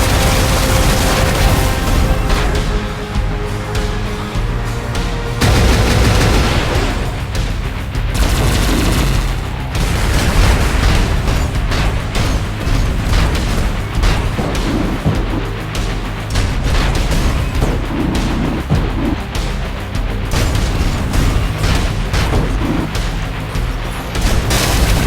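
Continuous rocket fire and explosions from the PS5 game Gunhead, loud and dense throughout, with rapid bursts and booms layered over one another and no pauses.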